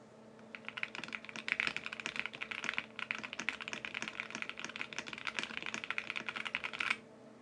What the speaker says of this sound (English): Let's do a typing test again.